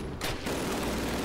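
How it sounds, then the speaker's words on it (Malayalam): Gunfire in the PC war shooter Call of Duty: United Offensive, a dense, continuous burst of shots that rattles steadily for over a second at moderate loudness, with no talk. "ഇവന്മാരെ എയിം ചെയ്ത് ഷൂട്ട് ചെയ്യേണ്ടി വരും"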